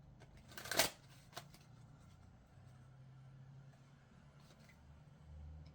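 A deck of Osho Zen Tarot cards gets a single quick riffle shuffle, a sharp close burst of flicking cards, followed by a faint tap and quiet handling noise.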